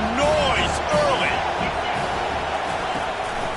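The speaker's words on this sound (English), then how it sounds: "This crowd bringing the energy and noise early." Stadium crowd in a college football video game, a loud continuous roar under a commentator's voice.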